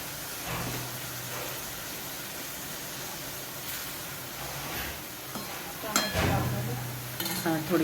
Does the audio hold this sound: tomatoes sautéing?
yes